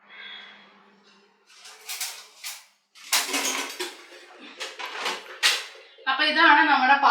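Kitchen pots and utensils handled while unpacking in a newly moved-into house, scattered clattering knocks and clunks in short bursts, close by, under and between a person talking.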